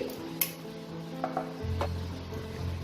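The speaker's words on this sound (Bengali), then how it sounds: "আমি একটা মিক্সিং ব্লেন্ডার জার নিয়ে নেব।" A mixing blender jar is set down and handled in a kitchen, giving a few brief clinks and knocks. A low hum runs underneath, and there is no talking.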